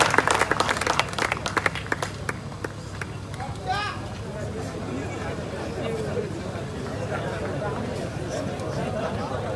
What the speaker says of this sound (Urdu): تالیوں سے استقبال کیجئے